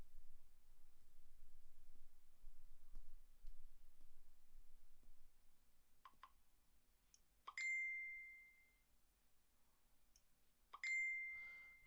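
Two bright phone notification dings sound a few seconds apart, each ringing briefly and fading, amid a quiet room with a few faint clicks.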